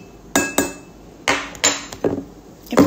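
A spoon clinks sharply against a glass while a drink is stirred, giving several distinct close taps at an irregular rhythm with short quiet gaps between them.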